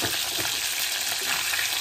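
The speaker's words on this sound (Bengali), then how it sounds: "এরমভাবে আমি পুরো মাছগুলোকে উল্টে দেবো, দিয়ে আবার আর একটু ভাজা হতে দেবো" Aar and tengra fish fry in hot oil with a dense, continuous close-up sizzle and crackle, loud and steady, with no one talking.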